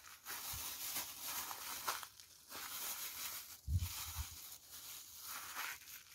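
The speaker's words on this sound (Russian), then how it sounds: "Теперь я начну выгонять из пакетика воздух." Crinkling plastic bag of dill pressed and squeezed to push the air out, soft rustles and crackles with a couple of muffled thumps, fairly quiet and close.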